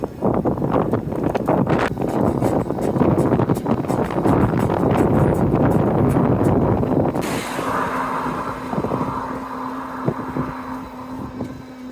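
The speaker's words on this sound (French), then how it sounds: "Surtout qu'on a plein de vent de face" Loud, steady headwind buffets the microphone with a rough, continuous roar while riding an electric fatbike in the rain, easing slightly partway through as a faint hum continues.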